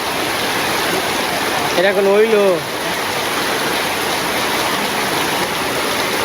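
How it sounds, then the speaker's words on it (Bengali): Heavy rain pours down outside a cattle shed, a steady, dense hiss that runs throughout, with someone briefly talking over it partway through. "দেখেন কি বৃষ্টি নামছে এই যে বৃষ্টি এসে পড়ছে"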